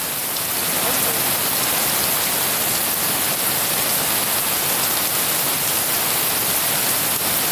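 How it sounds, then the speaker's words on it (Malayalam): Steady, loud downpour of heavy rain in Hyderabad, a thick unbroken hiss of drops drumming on surfaces for the whole stretch, with no voices over it. "എൻ്റെ ദൈവമേ ഒരു രക്ഷയില്ലാത്ത മഴയാണ്"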